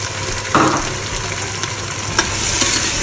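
Peas, potato and carrot sautéing in a pan with salt and sambar masala, a steady close sizzle with brief scraping stir sounds, no talking.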